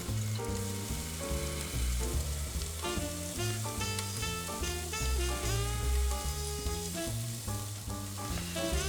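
Sirloin steak, green beans and jalapenos stir-frying in a pan give a steady sizzle under continuous background music, with no talk.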